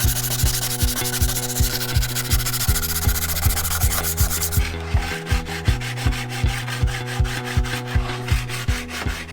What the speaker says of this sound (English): I start by sanding the top with 80 grit and then working my way up to about 220.